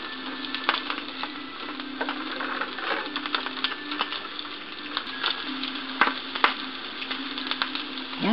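Beef tapa fries in a pan with a steady, close sizzle, broken by frequent small pops and crackles of spattering fat.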